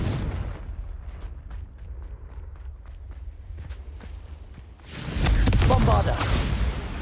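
Hogwarts Legacy spellcasting with Confringo fire blasts: a run of sharp, rapid cracking impacts in the first few seconds, then a louder, dense burst of roaring noise near the end with voices in the mix.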